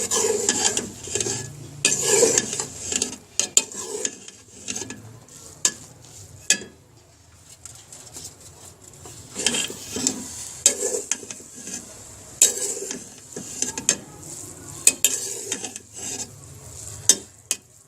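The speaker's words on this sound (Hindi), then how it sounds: "ये देखें दोस्तों, हमने सेवइयाँ डाली हैं। थोड़ी थोड़ी करके डालनी है ताकि अच्छी तरह मिक्स हो जाए।" Vermicelli being stirred in a cooking pot for a savory spiced seviyan pulao, with repeated scraping and clinking strokes of a spoon against the pot and a soft sizzle underneath, close up and with no talking.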